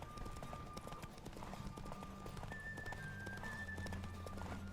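Horse hooves clip-clop at a steady gallop in The Witcher 3: Wild Hunt, a continuous loud rhythmic drumming with game music and ambience around it, plus a brief whinny.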